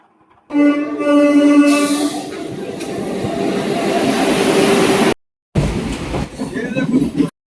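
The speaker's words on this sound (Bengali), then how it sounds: "আর প্রায় আধা ঘন্টা পর কিন্তু এই স্টেশনে ট্রেন এসেছে।" A late-running train pulls into a station platform near Howrah, its horn blaring at first and then a loud, sustained rumble of wagons rolling close by, briefly cutting out before the clatter resumes.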